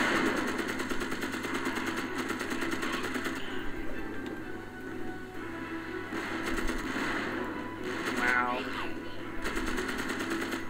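Machine gun fire in the video game Magicka rattles in bursts amid chaotic game effects, with players talking over the shooting throughout.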